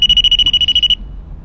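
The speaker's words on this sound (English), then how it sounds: "I think I heard this thing beep" A rapid series of about a dozen high-pitched electronic beeps in quick, even pulses, loud and close, then stopping abruptly.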